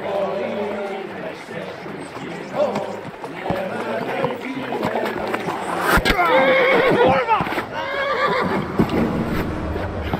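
A horse whinnies loudly in the medieval video game Kingdom Come: Deliverance, with galloping hoofbeats and the bustle of a crowd, while voices shout over the action.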